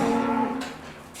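Dairy cows moo inside a barn: one loud, drawn-out, low moo sounds close by, then fades, with no talk.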